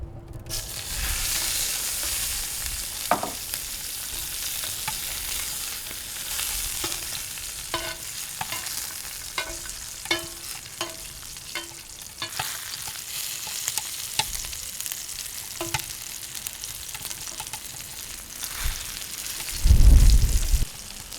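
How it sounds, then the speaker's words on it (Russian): Tomatoes sizzle and crackle steadily in a hot frying pan while lamb ribs are being cooked, with scattered pops and a clatter of utensils, ending in a louder clunk near the end. "Теперь то же самое, только еще быстрее обжарим помидоры."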